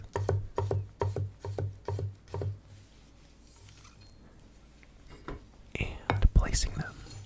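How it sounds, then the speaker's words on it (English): A knife chops a peeled garlic clove into thin discs on a board, a run of crisp, evenly spaced close taps, then a quieter pause before a few louder knocks and handling sounds. "I am chopping the garlic clove"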